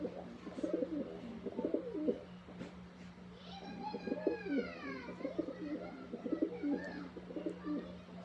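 Pigeons coo repeatedly in soft, rhythmic bursts at close range, with a steady low hum underneath and a few brief chirps from other birds mixed in.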